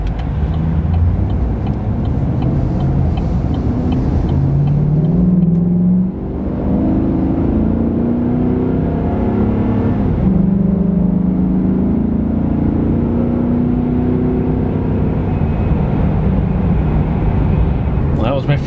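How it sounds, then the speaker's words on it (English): A 2018 Chevrolet Silverado 2500 with the 6.0 engine and an S&B cold air intake accelerates hard, its engine note rising through two gear pulls in a loud, continuous roar heard from inside the cab. "My first acceleration with the cold air intake installed."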